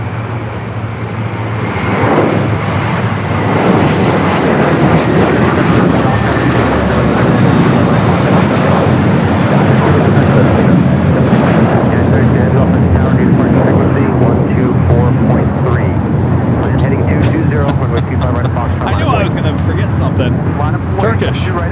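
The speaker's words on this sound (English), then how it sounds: "we got that A321, the first Mint livery, heading to Boston, now finally taking off" An Airbus A321 in the first Mint livery takes off from LAX bound for Boston, giving a loud, sustained engine roar that builds early and holds steady throughout, with people talking over it.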